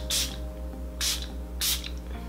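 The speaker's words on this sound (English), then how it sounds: "So I'm going to be using the Catrice Prime and Fine Spray" Catrice Prime and Fine setting spray misted in three short, crisp bursts about a second apart, close and clear over a low steady hum.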